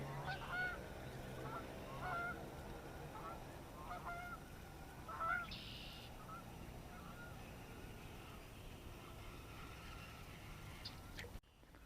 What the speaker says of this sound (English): those geese are so loud